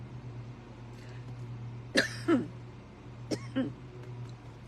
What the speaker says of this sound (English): I'm still wanting to have a reaction of coughing.